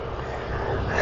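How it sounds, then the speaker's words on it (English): Loud, steady engine drone of a nearby tractor, a broadband rumble that holds constant and swells slightly at the end, with no talk over it. "It is a loud tractor."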